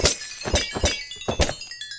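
Experience bottles shattering in Minecraft, a quick series of four or five sharp glassy smashes in close succession, loud and close with no talk.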